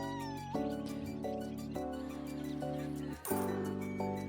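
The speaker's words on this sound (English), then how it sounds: "There's a cat" A cartoon cat meows several times in the cozy street-management game Minami Lane, short clear calls spaced about a second apart over a gentle looping music backdrop, with a brief bright chime near the middle.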